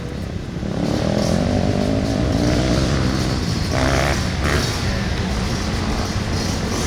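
A four-stroke dirt bike engine runs steadily on a motocross track, a loud continuous drone with a slight rise in pitch partway through and no talk over it.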